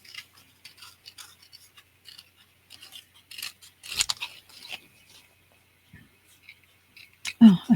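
Scissors snip through craft paper for an altered playing card, a series of small crisp cuts, close and intermittent, ending in a louder rustle.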